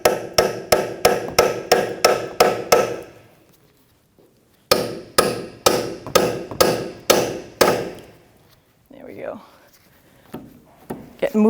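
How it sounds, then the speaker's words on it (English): A cold chisel is hammered against a front wheel bearing part on a 2007-2017 Jeep Patriot 2.4L: a quick run of about nine sharp metallic blows, a pause, then about seven more, loud and close, followed by faint shuffling. "So with like a cold chisel, I'm just going to see if I can separate the ear of this,"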